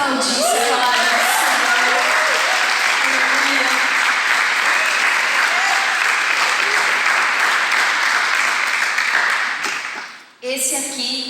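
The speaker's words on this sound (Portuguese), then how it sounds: "Queria que você aplaudisse e falasse" A church congregation applauds loudly and steadily, filling the room with dense clapping and cheering voices that hold for about ten seconds before a brief dip and a restart near the end.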